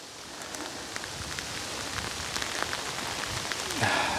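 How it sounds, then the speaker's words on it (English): Steady rain pattering on surfaces outdoors in Scotland, a dense continuous hiss with scattered drips, moderately loud and unbroken throughout, no voices. "It's raining again."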